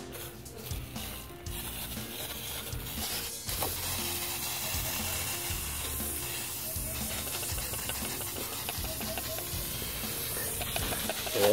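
Garden pump sprayer emptying out MCPA weed killer, giving a steady loud hiss and sputtering spray that continues throughout, growing slightly louder toward the end.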